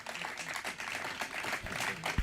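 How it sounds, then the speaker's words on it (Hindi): An audience at a village religious gathering in Nonaijor, Raigarh, Chhattisgarh claps for the young people, a dense patter of hands rising and falling at moderate distance, with one sharp louder clap near the end. "एक बार इन युवाओं के लिए तालियां बजा दो"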